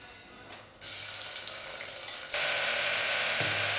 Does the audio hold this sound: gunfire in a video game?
no